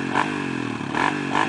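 A dirt-trail motorcycle in first gear is revved, its engine surging in repeated bursts with a rough, buzzing roar close by.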